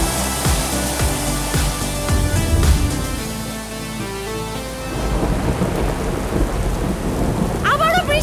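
A heavy rainstorm pours steadily while deep rolling thunder rumbles through most of it, loud and continuous with no voices.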